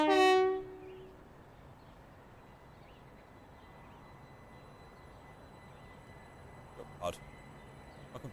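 Class 375/377 electric multiple unit in a train simulator game coming to a stop, opening with a loud tonal horn blast that fades into a low rumbling hum, with faint clicks and a brief squeal near the end.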